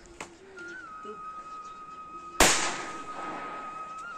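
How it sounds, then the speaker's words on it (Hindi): Firecrackers set off by children in a hill village: a faint pop, a long whistling rocket tone, then one sharp loud bang that echoes and decays, heard outdoors at moderate distance. "और ये बच्चे अभी भी पटाखे फोड़े जा रहे हैं।"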